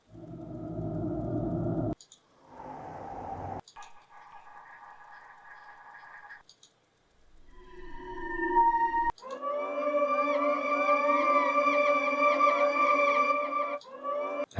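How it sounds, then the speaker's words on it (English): A series of eerie synthesized tones, some droning and some sweeping, separated by abrupt cuts, ending in a dense, wavering, ominous layered swell. "let's find some, like a sinister tone to layer over this"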